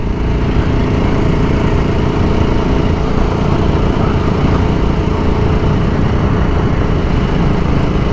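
A BSA motorcycle engine rated at 45 brake horsepower drones loud and steady while riding, a dense continuous rumble that holds an even pitch with no pauses and no talk over it.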